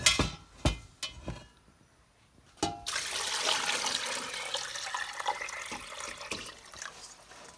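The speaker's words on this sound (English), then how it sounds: "Now I'm gonna add water." Water pours into a cooking pot of pancita for Mexican menudo, a steady rushing splash starting after a few knocks and clatters, close and fairly loud, continuing to the end.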